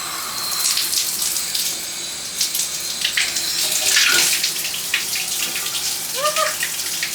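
Water gushing from a tap into a bathtub, a steady close rushing flow with small splashes and a faint squeak of the fixture near the end.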